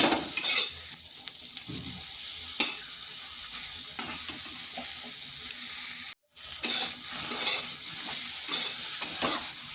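Eggplant pieces fry in a pan with salt added, sizzling steadily while being stirred, with intermittent scrapes and clinks of a spatula against the pan and a brief drop-out partway through.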